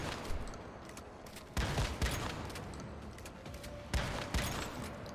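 Rapid automatic gunfire crackles in bursts during a solo pro-mode run of the Securement Silo Theta mission, with dense overlapping shots rising in loud clusters over constant background game noise.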